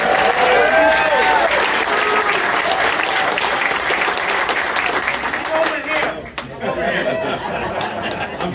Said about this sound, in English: He loved it. He got the biggest applause.